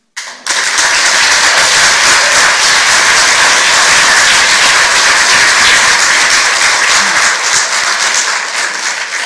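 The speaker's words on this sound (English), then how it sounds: "I'm going to have to ask everybody in the audience to please refrain from clapping" Audience clapping at a school board meeting, a loud, dense roomful of applause that starts abruptly and sustains evenly for several seconds before easing slightly at the end.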